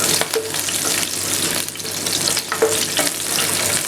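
Green chillies frying in a pan for a brown mutton dish, a strong continuous sizzle with a few sharp pops and crackles scattered through it, close up and without speech.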